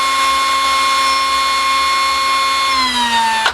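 Power drill spinning bronze screws to polish off grime while refurbishing garden furniture, a steady high whine running loud and close for about three seconds before winding down at the end, no talk.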